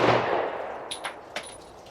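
An AK rifle shot booms loudly at the start and rings away, followed by a few fainter, sharp reports.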